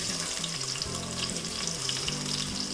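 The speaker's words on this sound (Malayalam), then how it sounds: "ഇനി ഇതിലേക്ക് കൊച്ചുള്ളി ഇട്ട് കൊടുക്കാം" Small shallots hit hot, plentiful oil for a curry and sizzle and crackle loudly and continuously at close range, with a faint low hum running underneath.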